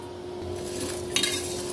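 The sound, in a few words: stirring chana dal roasting in a pan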